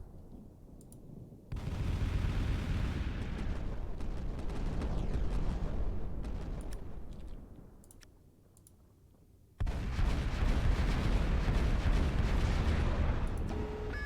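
Kinetic guns on a battleship fire in the game Final Theory: a dense, continuous clatter of rapid shots and booms. It dips briefly to a quieter stretch, then surges back loud and sustained.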